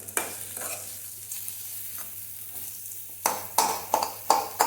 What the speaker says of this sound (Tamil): இது சிம்மில் வச்சு கொஞ்சம் வதங்கட்டும்